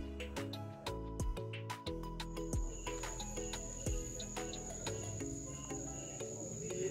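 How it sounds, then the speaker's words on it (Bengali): Crickets chirp steadily at dusk in dark countryside near Matheran, a continuous high, rhythmic trill from several insects, fairly close, with faint scattered background sounds and no talking. "চারপাশে ডাকতে শুরু করেছে ঝিঝি পোকা।"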